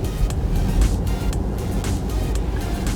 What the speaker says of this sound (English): For those that really like power, acceleration on this car is incredible.